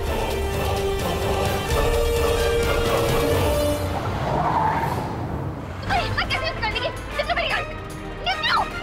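A car speeds along with a harsh tire screech and skid rising over the engine noise, then drops away as a voice speaks anxiously over the fading rumble.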